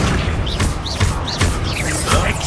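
Repeated fiery blasts from the Confringo spell in Hogwarts Legacy, several booming explosive bursts in quick succession over a dense roar of game noise.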